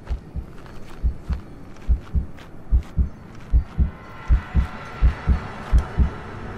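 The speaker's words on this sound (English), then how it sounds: "Why is my heart beating?" Heartbeat sound effect in the video game Mortal Shell: steady, deep, thudding double beats repeating at an even pace, loud and close, with a faint hum beneath and no talk.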